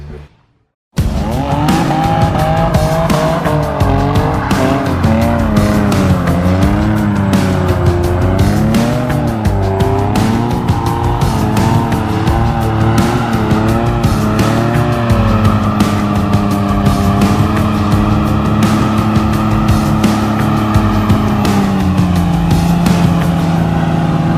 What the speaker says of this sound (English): So that's how you do a standing burnout.